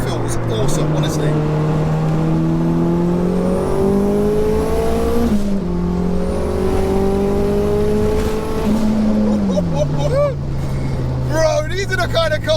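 A turbocharged 630bhp Mitsubishi Evo 2 accelerating hard, its engine note climbing through gears in loud rising sweeps with brief dips at shifts, heard up close from inside the car.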